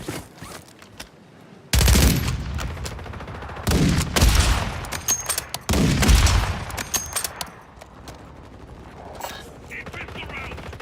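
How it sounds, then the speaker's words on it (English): Bursts of automatic gunfire in the video game Warzone, loud rapid volleys repeating several times over steady background game noise, with brief pauses between bursts and faint voices underneath. "Taking effective fire."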